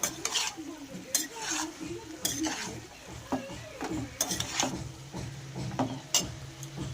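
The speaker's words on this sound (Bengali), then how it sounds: "এগুলোকে ভালো করে আমি এবারে মিশিয়ে নেব" Poppy seed and radhuni paste for shukto being stirred in a pan, with repeated spoon scrapes and knocks against the metal over a faint sizzle, a few clear strokes each second, close up and quiet.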